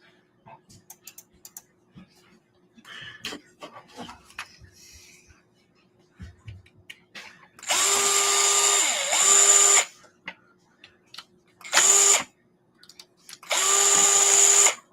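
A power driver whirs in three bursts, a long one then two shorter, backing screws out of an Axial SCX24 rear cage printed in PLA, with light clicks and handling noises before it.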